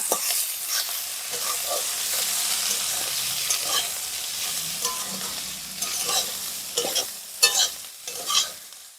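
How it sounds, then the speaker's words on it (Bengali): Cabbage is frying with salt and turmeric and being stirred in a pan. A sizzle carries throughout, and spoon scrapes and clatters grow louder and more frequent toward the end, with no talking. "এর মধ্যে পরিমাণ মতন আমি লবণ আর হলুদ দিয়ে ভাজবো"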